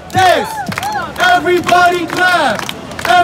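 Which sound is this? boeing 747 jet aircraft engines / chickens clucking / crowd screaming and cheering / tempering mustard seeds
crowd screaming and cheering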